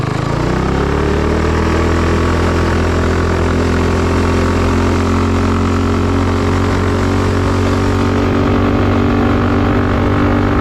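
A car engine idles steadily up close, a loud, even low rumble with a constant hum that barely changes.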